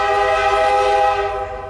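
A train's horn blows loud and steady, a sustained multi-tone chord held close by at a crossing in Minoa, fading slightly toward the end.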